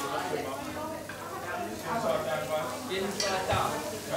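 Fish laid skin side down in hot olive oil in a pan gives a soft, continuous sizzle with occasional scraping of a utensil, heard under a person talking.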